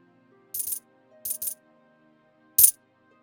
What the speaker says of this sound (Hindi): अरे ये क्या, चांदी के सिक्के?